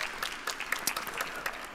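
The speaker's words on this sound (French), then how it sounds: "Applaudissements pour Véronique Billy, s'il vous plaît." An audience applauds with a dense patter of many hands clapping at moderate volume, heard on its own.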